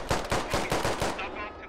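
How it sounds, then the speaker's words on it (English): Assault rifle fire in a Squad tactical military shooter game: a rapid, loud burst of about six evenly spaced shots, with a short ringing tail after the last one. "More AR fire from the other side"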